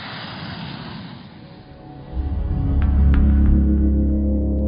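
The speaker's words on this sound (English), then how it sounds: "During intensive high-speed taxiings, dozens of continuous accelerations and brakings are carried out" Neuron UCAV unmanned combat drone with a jet engine during high-speed taxiing on a runway, its engine whine swelling into a loud, steady roar in the second half of the clip.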